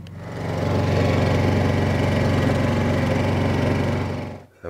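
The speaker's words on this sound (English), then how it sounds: "I heard the generator kick in" A portable generator at a rough cabin runs steadily, a loud, close, buzzing engine drone with a fast chugging pulse that holds for several seconds before dipping at the end.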